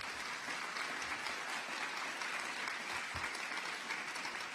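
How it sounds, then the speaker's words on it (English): An audience at a county government State of the County event applauds, a dense, steady wash of clapping from many hands at moderate distance, sustained for several seconds. "Please give yourselves a round of applause."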